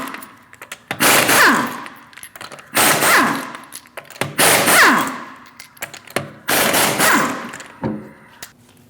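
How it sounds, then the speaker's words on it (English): Impact wrench bursts loosening the five lug nuts on a rear wheel of a 2016-2020 Chevrolet Malibu 1.5L with a 19mm socket: four loud, close rattling bursts of about a second each, with short pauses between them. "Remove the 5 lug nuts using a 19mm socket."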